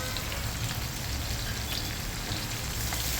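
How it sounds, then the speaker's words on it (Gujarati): Chopped onion frying in a pan while cooking a papad sabji, giving a steady, dense sizzle and crackle that stays even and close for the whole stretch, with no talk over it. "એને પણ આપણે બ્રાઉન થાય ત્યાં સુધી સાતળીશું."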